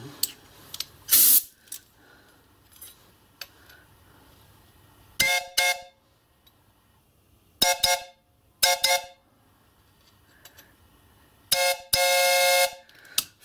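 A chime whistle on a miniature steam locomotive sounds in about six short toots of varying length, each with a steamy hiss, separated by quiet gaps and ending in a longer blast.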